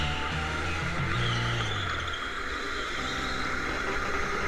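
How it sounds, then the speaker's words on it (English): A go-kart drifts around an indoor speedway track, its small engine droning loudly and steadily while the tires scrub and skid through the slide. "Brian really just likes to drift"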